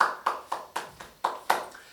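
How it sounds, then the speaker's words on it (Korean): Sparse rhythmic hand claps in a church worship service, about eight evenly spaced sharp claps at a steady beat, quiet and slightly reverberant, with no crowd roar. "우리 하나님께 영광의 박수를 올려드리겠습니다"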